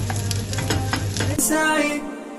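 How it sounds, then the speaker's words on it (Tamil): Cashews, pistachios and almonds frying in a pan for an Eid dish, an even sizzle with scraping stirs, close up, ending in a brief louder hiss that fades. "இது எல்லாத்தையும் கொஞ்சம் நல்லா ஃப்ரை பண்ணிப்போம்."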